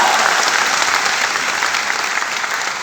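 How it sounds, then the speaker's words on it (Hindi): Audience applause fills the hall at a motivational talk for board-exam students, a dense, steady wash of many hands clapping close and loud throughout, with no talk over it. "एक बार तालियां बजा के बता दीजिए।"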